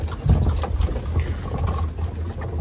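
Low, soft cooing of pigeons in a loft, murmuring continuously at close range with faint shuffling and rustling around them.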